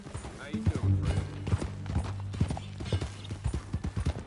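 Horse hooves clop steadily at a walking pace on a ranch in the western game Red Dead Redemption 2, close and clear, with characters conversing throughout.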